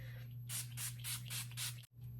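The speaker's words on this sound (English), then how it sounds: "I'm gonna use the Mario Badescu spray." Five quick hissing bursts of a Mario Badescu face mist spray, evenly spaced and close, with a steady low hum underneath.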